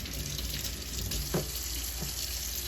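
Water from a tap runs steadily over a cleaning sponge as it is rinsed. The flow is close and continuous, with a couple of faint knocks in the basin.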